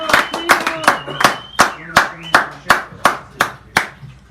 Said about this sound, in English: You got a mighty loud clap there, Dan